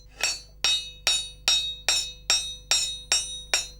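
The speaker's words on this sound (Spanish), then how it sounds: "luego estirarlo en el yunque a golpe de martillo" A blacksmith hammers red-hot iron from an old worn sickle on an anvil to forge a knife, striking nine sharp, ringing blows at an even, unhurried rhythm, close and clear with no voices.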